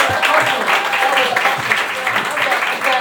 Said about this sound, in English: let's clap it up one more time for Mrs. Lynch